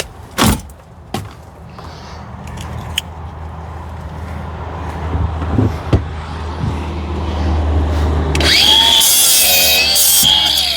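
A Sawzall reciprocating saw cuts through material while stripping an abandoned boat, giving a steady rasping drone with a few sharp knocks early on, then a louder, harsher bite near the end.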